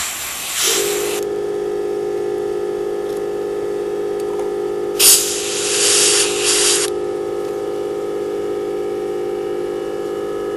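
Spray paint is feathered on for color modulation with a masking card in two hissing bursts, one long and one shorter, over a steady compressor hum and tonal whine, with no talk.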